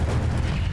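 An Incendio fire spell is cast in the Hogwarts Legacy video game, a short, deep boom-like whoosh of fire with a dense low rumble that lasts under a second.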